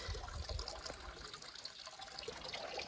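A steady, faint trickle of running water with no voices, flowing from a water tank at Sudhagad fort.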